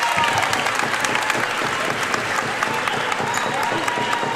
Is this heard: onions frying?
no